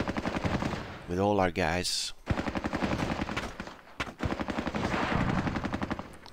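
Automatic gunfire in Squad Battles Tour of Duty, a Vietnam War strategy game, crackling in a sustained burst that stops and starts again, loud and close, with a voice talking over parts of it.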